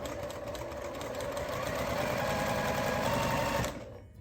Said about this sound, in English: So it says you're supposed to stitch, yep, on the diagonal.